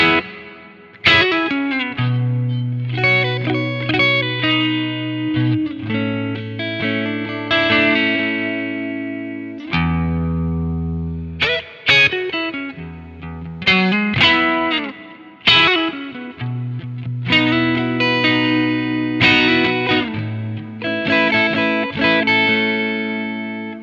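Fender Stratocaster electric guitar playing a clean, chorus-tinged intro in the manner of a Seattle band's opening, sustained chords and melodic lines ringing out continuously with brief pauses, loud and up front.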